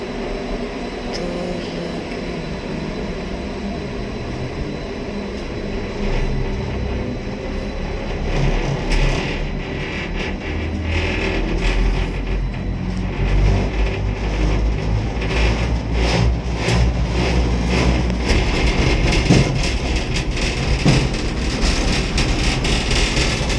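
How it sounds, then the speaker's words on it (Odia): Nandankanan zoo's cable car ropeway running from the zoological park toward the botanical park, a loud continuous mechanical rumble and hum with rattling that builds midway and stays steady, no talking. "ହେଉଛି ନନ୍ଦନକାନନର ropeway, zoological park two botanical park"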